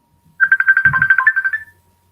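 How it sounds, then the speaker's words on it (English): A mobile phone ringtone trills in a rapid string of pulsing beeps for over a second, fairly loud and close, then stops. "Whose phone is ringing?"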